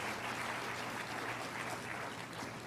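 A church congregation applauds during a Spanish-language sermon, a dense, steady wash of clapping from many hands that holds evenly throughout, with no voices on top.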